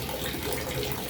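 Water drains steadily from a third-floor fishpond during cleaning, a continuous close rushing and splashing flow without pause.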